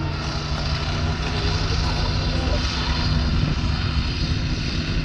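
Matilda I (A12) infantry tank driving in a museum arena, its engine a steady droning roar with a low hum, continuous and fairly loud, with speech faint underneath.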